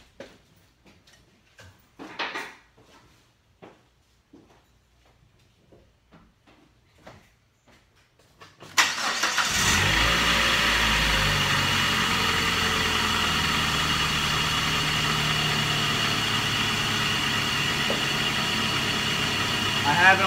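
A car engine cranks and catches, then runs steadily with the air conditioning on max, a loud continuous idle hum filling the second half after quiet ticking and shuffling, with people talking near the start.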